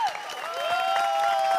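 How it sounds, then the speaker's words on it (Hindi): A studio audience applauds during a comedic poetry-duel scene between a husband and wife on the sitcom Taarak Mehta Ka Ooltah Chashmah. The brief burst of crowd clapping sits under a loud, sustained musical tone that glides. "तालियां तालियां।"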